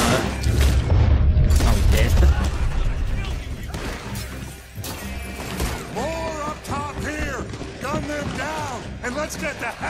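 An oil wagon explodes in Red Dead Redemption 2 with a loud, deep blast and crashing debris at the start, then gunfire and shouting voices carry on through the chaos.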